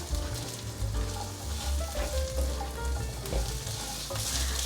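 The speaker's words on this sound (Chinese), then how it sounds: "现在放入红萝卜哦， 快速翻炒。" Carrots stir-fried with browned seitan in a hot oiled pan, a dense, continuous loud sizzle with clattering stirring throughout, no voices.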